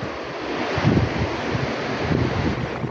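Strong wind gusting outdoors among trees on a late-November day, a loud continuous roar with buffeting on the microphone that swells and eases, no voices present.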